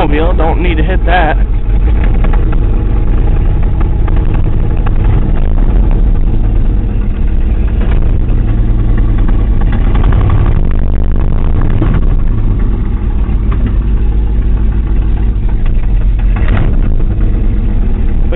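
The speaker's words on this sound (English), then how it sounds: "it pops a little in the exhaust." A 1979 Ford F250 pickup with a cracked exhaust manifold idles with a rough, loud, low rumble and irregular exhaust pops, while someone talks over it throughout.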